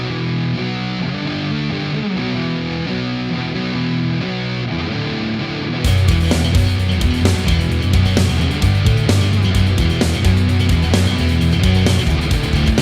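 A band plays the main riff of a song, a driving, distorted guitar riff that repeats, growing heavier partway through as drums and bass hit harder.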